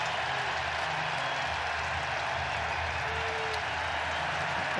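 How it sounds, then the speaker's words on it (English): Baseball crowd at American Family Field during a 2024 National League Wild Card game roars and applauds in a dense, sustained wash of cheering, with commentary faintly underneath. "And here comes the crowd at American Family Field."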